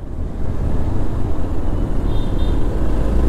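A Hero Xpulse 200 4V Pro Rally Edition motorcycle rides along a city road, a steady close engine drone with road and wind rush, faint beeps near the end.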